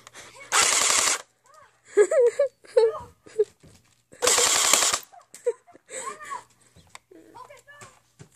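BB gun shooting, two short loud bursts of rapid popping roughly four seconds apart, with a voice talking, whimpering and wailing in between.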